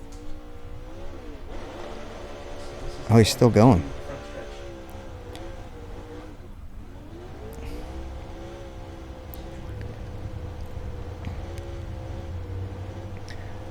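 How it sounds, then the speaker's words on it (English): NASCAR stock car doing burnouts at a racetrack after a championship race, a steady engine drone and tire roar running throughout under a voice, with a brief louder burst near the start. "It sounded like the car was still running, but the 12 was doing burnouts in the background too"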